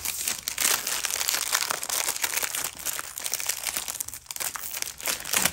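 Plastic packaging of diamond painting supplies being handled, with close, continuous, loud crinkling and rustling that rises and falls for several seconds with no talking.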